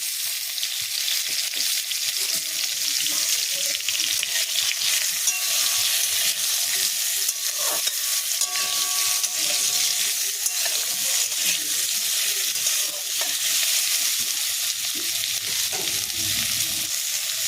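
About 200 grams of raw green mango frying in a pan for a sweet-sour chutney gives a steady, bright sizzle. Occasional scrapes of stirring run beneath it, and no voices are heard.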